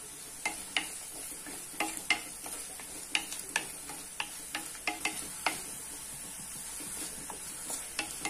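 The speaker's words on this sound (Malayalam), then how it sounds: "ഈ ഉള്ളി ഇഞ്ചിയും കൂടി നന്നായിട്ടൊന്ന് വഴറ്റിയെടുക്കാം. ഇതിൽ കുറച്ച് കറിവേപ്പിലയും കൂടി ചേർത്തു." Onion, ginger and curry leaves sauté in a pan for a Kerala-style curry, with a soft sizzle under repeated sharp clicks of a utensil stirring and scraping, close and without speech.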